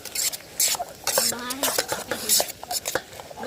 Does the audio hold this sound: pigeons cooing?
no